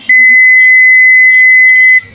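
A multimeter in continuity mode gives one loud, steady electronic beep lasting about two seconds as its test probes touch the terminals of a capacitor during repair of a Hanabishi air cooler with a no-power fault.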